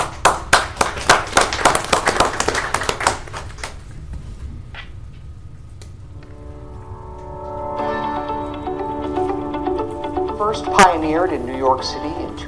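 At a city council meeting, a room of attendees claps in a brief sharp burst that fades after about three seconds, followed by quieter room noise, a sustained tone and talking.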